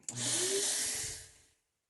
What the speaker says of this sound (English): let me go ahead and vacuum this off real quick.